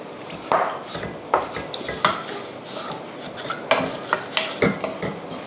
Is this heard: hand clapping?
no